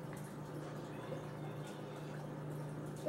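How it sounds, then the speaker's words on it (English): Water bubbles and gurgles faintly and steadily, a soft continuous burble with a low hum beneath it and no voices. "You guys hear the bubbling?"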